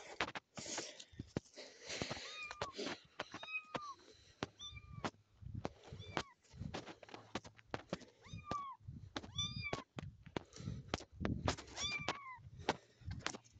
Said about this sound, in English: It's a cat in a bucket.